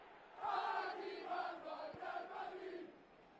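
A stadium crowd chants before a Real Madrid vs Panaitolikos Champions League semifinal first-leg football match, a loud, swelling mass of voices in rhythmic waves with a couple of sharp thumps underneath.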